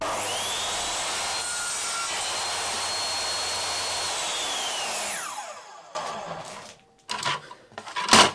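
A table saw with its guard on cross-cuts a piece of wood, a loud steady whine and rasp for about five seconds that winds down as the blade slows, followed by a few close knocks and handling clatter.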